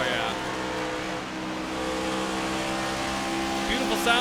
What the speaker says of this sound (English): Beautiful sounds here on the 20 DeWalt Toyota Camry of Mike DeWalt